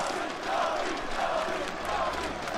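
Spectators in a packed esports arena roar at a CS:GO match between NAVI and Heroic at the PGL Major 2022. The cheering is a dense, sustained wash of crowd noise that swells slightly partway through and never drops out.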